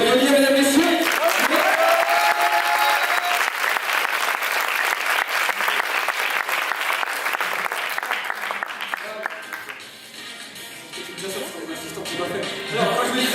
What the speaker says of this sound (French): Vous pouvez l'applaudir, mesdames et messieurs.